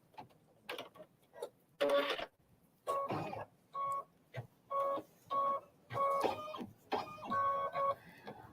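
An embroidery machine stitching out details in white thread, a rapid mechanical clatter that runs in short bursts with brief pauses and a faint tonal whine inside each run, heard close and without talking.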